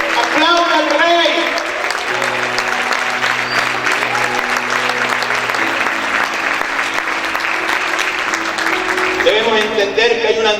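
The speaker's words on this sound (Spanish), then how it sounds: "¡Aplauda al Rey!" Sustained applause from a church congregation at a Spanish-language service, loud and dense for about ten seconds, mixed with cheering voices and a held musical tone underneath.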